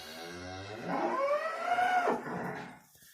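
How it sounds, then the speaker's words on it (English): A cow separated from her heifer calf lets out one long, loud, close bellow, rising and then trailing off, with no talk around it. "that cow down there, since those two open cows got put in with the heifers, well, yeah, her calf's one of those heifers. So she's been bellering."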